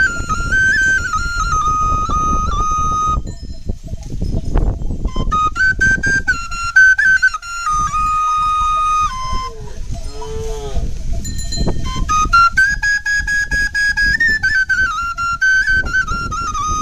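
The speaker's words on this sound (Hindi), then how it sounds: "वहां से बहुत ही मधुर आवाज़ आया था बाँसुरी का" Bamboo flute melody played outdoors while herding cattle in a tribal Indian village, sustained bright tones with bending phrases and pauses, near and clear over a rustling background.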